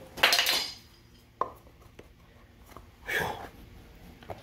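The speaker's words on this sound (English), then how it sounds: "the chisel just hit the ground, but it hit handle first" A woodworking chisel dropping and striking the ground handle first, a sharp clatter near the start followed by a smaller knock and another rattling impact a few seconds later in a quiet workshop.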